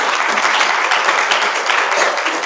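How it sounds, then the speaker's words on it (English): Loud, continuous applause from an audience at a real estate business event, dense clapping filling the room throughout with no gaps. "a big round of applause"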